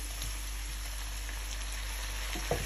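Yardlong beans with salt cook in a pan, giving a soft even sizzle with light pattering crackles over a low steady hum, a few sharper pops near the end.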